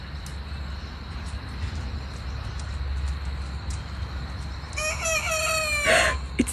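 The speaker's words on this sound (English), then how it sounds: "one of the roos is trying to crow" An Araucana rooster crows at a homestead, one harmonic-rich crow rising after several seconds of quiet farmyard background and ending with a few rough notes.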